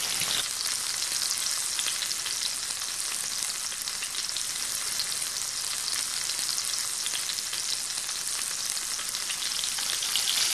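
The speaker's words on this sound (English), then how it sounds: "the key here is to just sear the outer surface of the tuna and the peppercorns" Pepper-crusted tuna searing in a hot pan, a steady, loud, even sizzle of frying that holds without pause throughout and has no voices over it.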